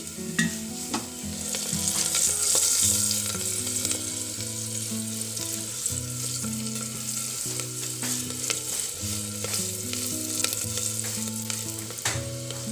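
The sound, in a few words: turmeric powder frying and stirred in pan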